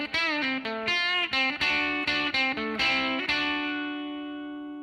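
Electric guitar plays an intro lick, a run of bright, bent and sustained notes with a clean-to-slightly-driven tone, close and alone, ending on a long ringing note that fades out.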